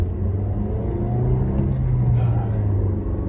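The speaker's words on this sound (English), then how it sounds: "I'm driving a stick shift, by the way, guys." A stick-shift car heard from inside while driving, a steady low engine drone with a slight rise in pitch as it pulls along, with no talk.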